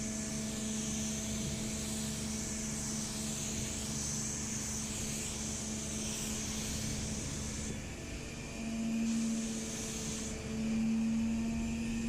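A steady airy hiss from a spray gun spraying sealer on a Honda S2000 hardtop runs throughout, with a faint constant hum underneath and brief pauses where the spraying eases off.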